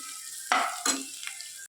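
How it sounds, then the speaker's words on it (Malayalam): Onions sautéing in a pan for a red amaranth stir-fry give a soft continuous sizzle, broken by two or three louder stirring scrapes, close up and without voices. "നമുക്ക് നന്നായിട്ട് വഴറ്റി കൊടുക്കാം."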